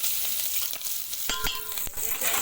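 Curry leaves and whole dried chilies crackle in hot oil for a village-style dal dhokli, a dense broadband sizzle with a few sharp pops and bursts near the end, fairly close, with no voices.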